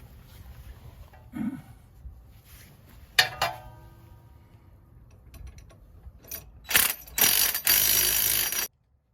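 A ratchet tightens bolts on a Sprinter van sway control setup, with quick clicking runs that grow denser and louder toward the end, mixed with metallic clanks, close up.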